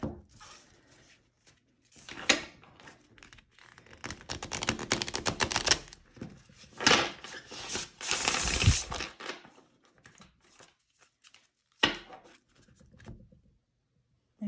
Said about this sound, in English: And I'll give it a quick ruffle shuffle.